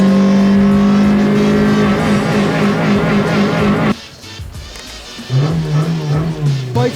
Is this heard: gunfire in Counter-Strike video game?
no